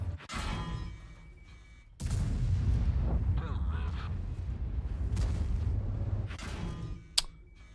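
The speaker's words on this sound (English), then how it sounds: "Hey, stop shooting me." Video game gunfire from other players: a few sharp, booming shots and bursts arriving in irregular clusters, mid-distance and fairly loud, with a brief crackling spike near the end.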